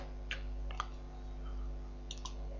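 Several light, soft key clicks in two small bursts from typing a short word on a computer keyboard while editing content in the SEBLOD Joomla extension, faint over a steady low hum.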